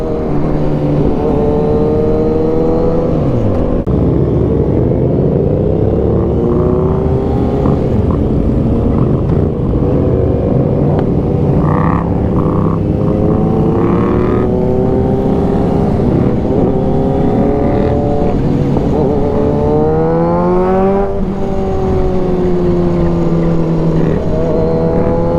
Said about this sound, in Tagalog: Skandaloso yung motor natin.